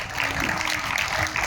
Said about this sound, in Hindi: इसीलिए जोरदार ताली है।